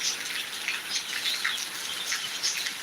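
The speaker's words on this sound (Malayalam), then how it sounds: "ആ ചൂടൊക്കെ മാറി നല്ല മഴയായിട്ടുണ്ട് കേട്ടോ" Heavy monsoon rain in Thiruvananthapuram, a steady, bright, hissing patter that stays constant, with faint bird chirps over it.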